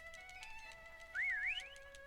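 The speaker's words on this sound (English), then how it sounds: "you keep doing it in whistles to make him go faster" Faint rising and falling whistle tones urging a horse to go faster in the video game Shenmue III, a short warbling whistle over a quiet background of soft game tones.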